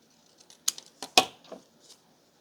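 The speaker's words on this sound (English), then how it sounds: "I think I will use my decollage scissors. Just cut that right there." Decollage scissors snip through paper while a folded-page journal insert is made, giving a few quiet, sharp clicks and crisp cuts close by with no talking.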